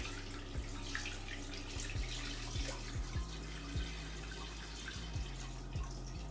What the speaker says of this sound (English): what I'm gonna do is add some water, y'all, out of my tea pitcher here